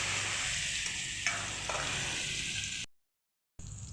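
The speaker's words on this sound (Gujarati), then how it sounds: "આદુનો કાચો સ્વાદ ના આવે તેના માટે આપણે 1 મિનિટ માટે તેને આ રીતે શેકી લેવાનું છે તેલની અંદર" Ginger and chili paste frying in hot oil with a pinch of asafoetida and turmeric for samosa filling, giving a steady close sizzle with a stirring scrape midway, then a sudden cutoff and brief resumption.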